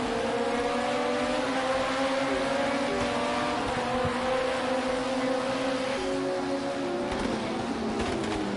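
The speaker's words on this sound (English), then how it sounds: "We'll head on to Immortalis' cockpit, seeing how he can overtake Tyjo." An LMP2 prototype race car onboard in Project Cars 2, its engine a steady loud drone with harmonic whine that shifts pitch around gear changes near the end, continuous throughout with no talk.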